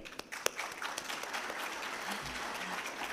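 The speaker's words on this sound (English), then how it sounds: "Here I'd really like for all of us to uh, give a, a huge round of applause for General Zubair." An audience applauds steadily for a few seconds, a dense wash of many hands clapping in a large room.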